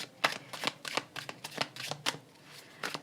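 Tarot cards are shuffled and handled for a clarifier draw, giving a run of crisp riffles and soft flicks in uneven bursts. The sound is close and quiet with no voice.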